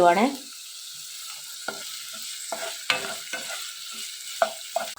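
Curry leaves hit hot oil in a pan with a loud initial burst of crackling sizzle, which settles into a steady frying hiss punctuated by scattered pops and stirring scrapes.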